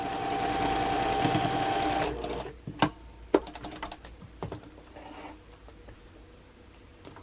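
Domestic sewing machine stitching a quilt block across a bulky seam intersection, driven slowly: a loud, steady mechanical whir for about two seconds, then stopping, followed by quieter clicks and handling taps at close range.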